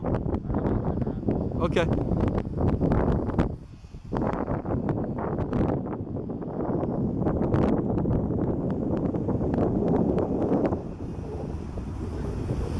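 Strong outdoor wind gusts buffet the microphone in heavy, roaring rumbles that briefly ease and then return, with a person speaking briefly over the noise.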